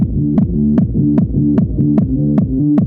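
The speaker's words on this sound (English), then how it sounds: "I created a simple intro loop that's just based on the music" Looping intro music for a video game, a bright synthesized pattern that repeats a short melodic phrase over a steady beat with evenly spaced percussive hits, loud and upfront with no talking.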